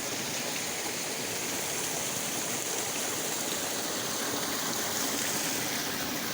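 Outdoor stream water flowing steadily through a briar-covered area after heavy rain, a continuous broadband rushing and gurgling that stays even and fairly close throughout, with no talk.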